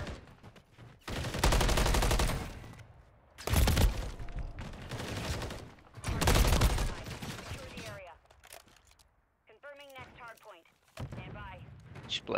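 Gunfire in the video game Modern Warfare 3 ranked play comes as several loud, heavy bursts separated by short gaps, followed by quieter sporadic shots while a player talks.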